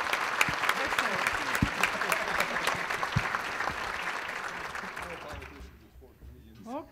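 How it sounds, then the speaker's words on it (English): Audience applause at a community outlook event, a crowd clapping steadily for several seconds with sharp individual claps standing out, then fading away as a voice begins speaking near the end. "Let's give them a big round of applause."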